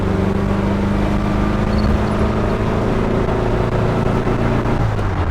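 A 1973 VW Thing on a test drive sounds as a loud, steady engine drone from inside the cabin, with a constant hum and road rumble that drops slightly in pitch near the end, and no voices.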